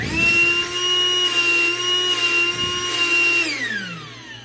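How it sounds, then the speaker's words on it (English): Small electric air pump for pool toys and inflatables running in vacuum mode, a steady motor whine with a high tonal hum, dropping in pitch as it winds down near the end, close and alone. "now it's a vacuum so it could suck all of the air"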